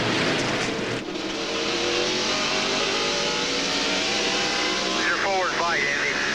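Heard onboard, the race truck's engine roars continuously at high rpm down the straightaway, with a loud, sustained drone and a brief dip near the start. A voice talks over it.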